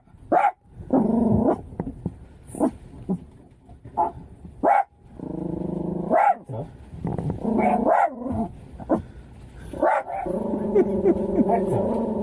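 A dog named Hector barks in repeated sharp bursts close by, with growly yips between, while a person talks over and between the barks.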